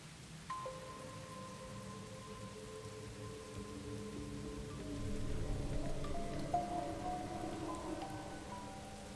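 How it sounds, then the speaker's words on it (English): Steady rain pouring from a rain generator in the video game Master Detective Archives: Rain Code, a continuous hiss over low droning tones, growing somewhat heavier and louder partway through, with no voices. "Oh, it's a rain generator."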